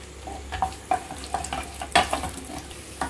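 Broken cashews crackle in hot ghee for sweet potato payasam, with a rhythmic scrape of a spoon stirring the pan several times a second over the continuous sizzle, close up and without talking.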